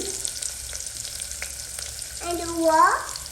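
Onions frying in butter for a desi chicken curry give off a steady, close sizzle, with a brief rising squeal of tone near the end.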